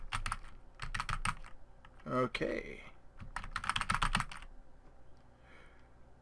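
A computer keyboard is hammered in quick bursts of clacking keys while playing the indie game Iron Snout, the clatter coming in clustered flurries with gaps, a short spoken word and game sounds in between.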